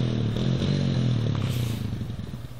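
A Honda 250 Racing Edition ATV rides a backyard dirt trail, its engine droning steadily and loud up close with rattling and clatter from the machine, then fading slightly as it pulls away.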